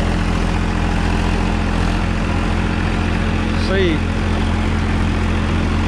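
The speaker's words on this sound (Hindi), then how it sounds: "50 HP का ट्रैक्टर है उस पर बड़ा हल्का चल रहा है।" Powertrac Euro 50 tractor, a 50 HP machine, running a rotavator in a field, giving a steady loud low engine drone throughout with a brief higher whine near the end; a voice speaks briefly over it.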